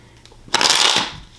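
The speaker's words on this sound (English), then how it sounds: "As I shuffle" A deck of tarot cards is riffled in one brisk, close shuffle, a crisp papery flutter lasting about half a second before trailing off.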